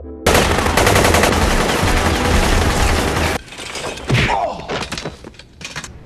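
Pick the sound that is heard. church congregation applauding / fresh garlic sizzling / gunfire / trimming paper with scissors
gunfire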